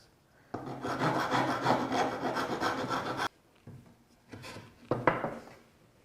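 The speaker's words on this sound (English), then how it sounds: "the rasp will cut on its edge. This is a Nicholson 50 rasp." Steady rasping of a Nicholson 50 rasp on the edge of a wooden board for a Lego table frame, a loud continuous stroke of about three seconds followed by a few shorter, quieter passes.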